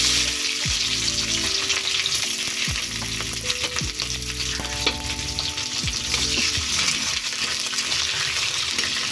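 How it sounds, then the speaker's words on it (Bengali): Chopped onion and green chili fry in hot oil with cumin seeds, a steady loud sizzle with scattered utensil scrapes and stirring clinks throughout, no voices. "পেঁয়াজটা একটু ফ্রাই হবে ততক্ষণ অপেক্ষা করব।"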